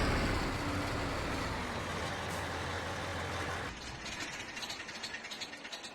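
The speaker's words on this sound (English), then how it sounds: "Love the sound of that tractor." A tractor engine in Farming Simulator 22 on a farm after baling, a loud steady droning rumble with mechanical clatter that suddenly drops to a quieter, pulsing idle partway through, with no voices.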